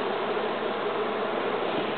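Bees swarming at a hive during a school beekeeping demonstration, giving a steady, dense insect buzz that holds evenly throughout at moderate loudness with no voices.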